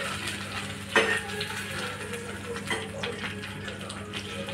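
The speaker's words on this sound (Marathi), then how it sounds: "आता मी दुसरी बाजू अशी परतून घेते." Green chillies frying in a pan make a steady crackling sizzle, with a brief clatter of stirring near the start and soft scraping afterward, and no voices.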